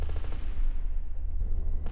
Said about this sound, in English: A 20mm autocannon like the Cobras does a good job of inflicting damage on infantry